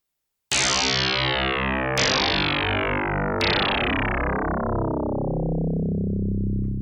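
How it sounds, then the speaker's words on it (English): An FM synthesizer, Kodamo Essence FM or Kasser Synths DAFM Genesis YM2612, plays three struck notes in a row, each starting bright and sweeping down to a smooth, mellow sine-wave ring that sustains loudly. "That's the sine wave."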